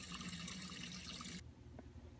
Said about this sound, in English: Make sure you fill up your Wonder Woman glass with nice filtered water.